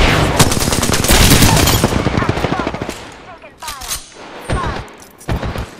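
Rapid automatic gunfire from an Apex Legends firefight, loud and dense bursts of shots for the first few seconds, then thinning to scattered shots and short volleys, with game voice lines mixed in.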